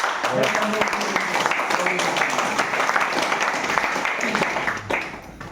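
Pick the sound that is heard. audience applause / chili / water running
audience applause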